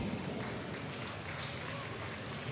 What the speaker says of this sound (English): A big round of applause for SK and AAA